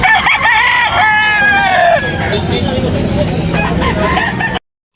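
Rooster for sale at a market in Tabunok, Talisay, Cebu, crowing loudly and close in one long drawn-out call, followed by busy background noise and chatter before an abrupt cut.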